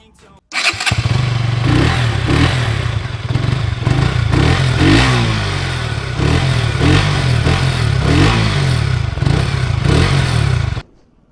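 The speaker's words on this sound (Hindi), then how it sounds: "तो अभी मैं आप सभी को इसका एग्जॉस्ट नोट एक बार सुना देता हूँ" A 2021 KTM RC 200 motorcycle engine fires up and idles with a deep, throbbing exhaust rumble, with a couple of throttle blips, running loud and close for about ten seconds before cutting off.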